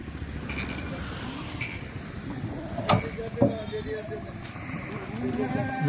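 Kathiawari goats packed into a truck bleat repeatedly, their calls overlapping with a voice and faint vehicle and outdoor noise.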